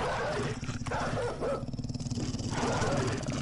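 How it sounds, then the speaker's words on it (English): A dog in the video game 7 Days to Die makes short yips and whimpers from below, over a low steady engine-like hum. "of course we got a dog underneath us doing something"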